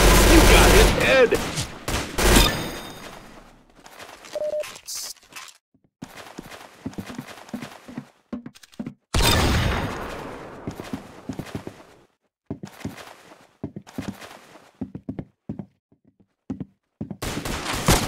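Gameplay from the video game Windicator, with bursts of gunfire mixed with clip-clopping hooves and other game effects, loud and irregular, broken by short quiet gaps.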